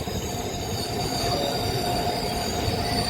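A goods train rolls past nearby, steady rumbling wheels with high metallic squealing over the top, loud and continuous throughout.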